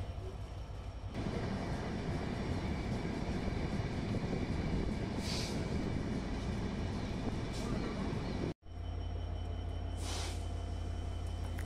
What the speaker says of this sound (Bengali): আবার আমাদের ট্রেন ছেড়ে দিয়েছে নোয়াপাড়া রেল স্টেশন থেকে